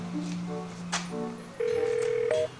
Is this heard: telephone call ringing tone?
yes